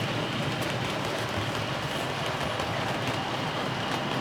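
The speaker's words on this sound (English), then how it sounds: "that train's going out." A model railway train pulls out of the station, giving a steady, continuous whirring rumble with a hiss that stays even throughout, close by and with no talking.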